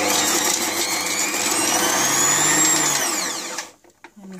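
A Silvecrest food processor slicing carrots, its motor running with a steady whine that rises and then winds down abruptly near the end, close and loud.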